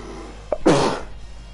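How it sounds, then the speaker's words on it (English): A single short sneeze, close and fairly loud, with a brief sharp intake just before the burst and a quiet room behind it. "Sneeze."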